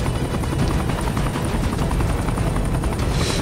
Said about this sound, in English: So this is how we're heading right now with the helicopter.